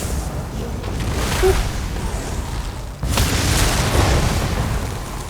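Fire breath attack from a creature in The Elder Scrolls Online, heard as a continuous roaring, rushing blast that swells sharply midway and stays loud and dense throughout, with no speech over it.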